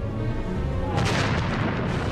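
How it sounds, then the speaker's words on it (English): A heavy blast aboard the warship Good Hope during a First World War naval battle: a steady, loud low rumble is broken midway by a sharp, bright burst that trails off into a sustained roaring wash. "There was a terrible explosion on Good Hope between her mainmast and her after funnel."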